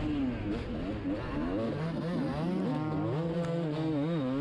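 A 27-year-old Yamaha YZ250 and an Ultra Evo, both two-stroke dirt bikes, race on a motocross track, their engines buzzing loud and close with pitch rising and falling steadily as they work through ruts, jumps and corners.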